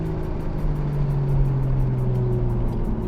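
A Toyota A90 Supra accelerating hard, a steady droning engine note rising slowly in pitch, heard from inside the car with no talk.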